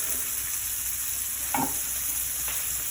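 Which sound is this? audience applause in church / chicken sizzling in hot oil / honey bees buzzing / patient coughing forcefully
chicken sizzling in hot oil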